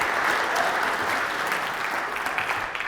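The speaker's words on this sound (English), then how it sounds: "Let's give them a round of applause for yesterday." Sustained applause from an audience at a talk, a dense steady wash of many hands clapping that holds evenly for about three seconds with no speech over it.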